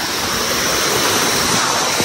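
A small forest stream in Nepal rushes in a constant, loud, broadband hiss of flowing water, close by and unbroken.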